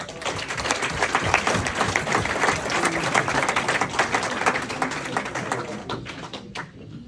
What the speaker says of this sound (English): So, big round of applause for David.